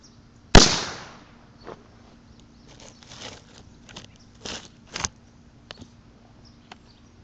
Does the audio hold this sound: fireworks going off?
yes